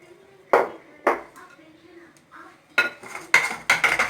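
A cake pan of layered marble cake batter, chocolate and yellow, is tapped on a surface: two sharp knocks, a pause, then a quicker burst of close, clattering taps.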